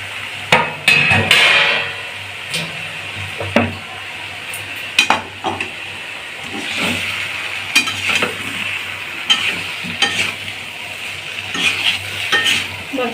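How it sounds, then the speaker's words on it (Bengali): Fried potato pieces tipped into a pan of jackfruit curry, followed by repeated utensil scrapes and clanks against the pan over a steady sizzle, with sharp knocks scattered throughout and no talking. "সেই আলুগুলো এর মধ্যে দিয়ে দেবো।"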